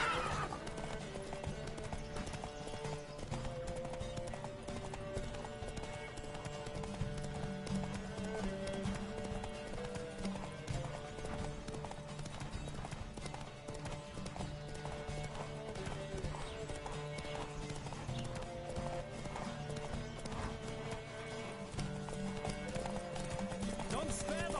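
Horse galloping in the video game The Witcher, with rapid rhythmic hoofbeats running continuously over a loud music score and game sounds, while a voice talks over it.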